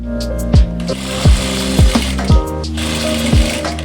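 Sewing machine stitching a circular palazzo, running in steady bursts with a whirring motor hum and regular mechanical clunks roughly every half second, close and fairly loud, with no talking.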